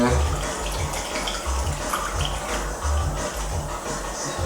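Liquid kava mixture draining and trickling through a cloth strainer, a steady wet splashing and dribbling with low thumps underneath, close by and continuous, with faint speech mixed in.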